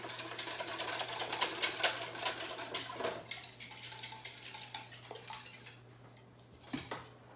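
Rapid metallic clattering of eggs being whisked against a pan, loud and busy at first, then slowing into scattered taps before stopping.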